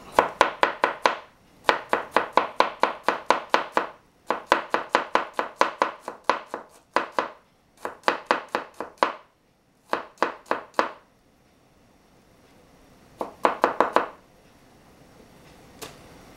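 A knife slicing beef thinly for sashimi, heard as bursts of rapid, crisp cuts through the meat against a board, with short pauses between runs. The cuts are close and fairly loud, and no one talks.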